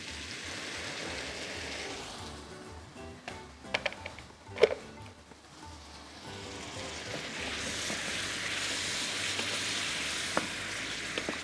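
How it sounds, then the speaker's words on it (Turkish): Meat sautéing in a pan in a home-style Anatolian kitchen, a steady close sizzle and crackle with a few louder clinks and stirring knocks near the middle, then an even frying hiss. "İyice bir kavuralım."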